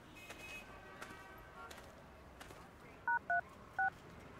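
A telephone keypad gives three short, distinct dialing beeps near the end, two in quick succession and then one more after a pause, clear against a quiet indoor room with faint background noise and no talking.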